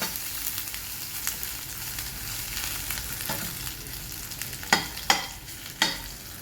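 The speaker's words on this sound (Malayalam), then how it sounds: "വെളുത്തുള്ളി ചതച്ച് ഒന്ന് പച്ചമണം മാറുന്നത് വരെ ഇളക്കിക്കൊണ്ടിരിക്കാം" Crushed garlic frying in a pan for a bitter gourd thoran, with a steady low sizzle and soft stirring scrapes throughout, then three sharper spoon scrapes close by near the end.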